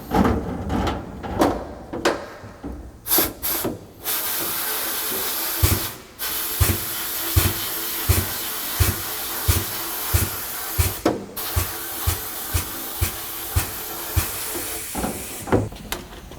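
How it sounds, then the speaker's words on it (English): Compressed air bursts blasting off a car's windshield wiper arm during restoration, a steady hissing rush punctuated by a string of short, sharp, evenly spaced blasts, close and loud. "Blow that off with some compressed air"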